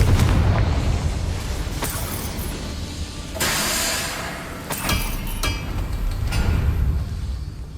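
Confringo fire spell blasts in the Hogwarts Legacy video game, a series of loud booming bursts with sharp cracks, sustained rumbling explosions recurring across the span over game ambience.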